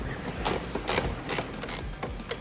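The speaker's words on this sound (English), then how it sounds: "This is one where I like the ratchet wrench because it fits right up in the hole here to get this lower bolt out." A ratchet wrench backs out a lower clutch cover bolt on an ATV while a clutch kit is being installed, giving several quick bursts of sharp metallic clicking in an uneven rhythm, close and clear.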